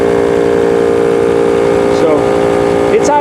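A 1955 Ford Fairlane runs at a smooth, steady idle for about three seconds, close and loud, with a brief faint squeak near the end.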